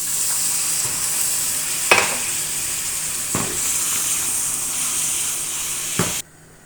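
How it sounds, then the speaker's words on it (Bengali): Cut pieces of dried fish frying in a pan, a steady hissing sizzle with a few sharp stirring knocks, close and continuous until it stops abruptly. "এখন ভালো করে ভেজে নেব।"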